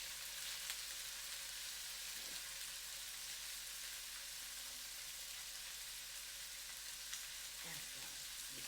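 Cubes of salmon sizzle steadily in a hot pan for Vietnamese shaking fish, a dense continuous fry with a few soft clicks as the pieces get flipped.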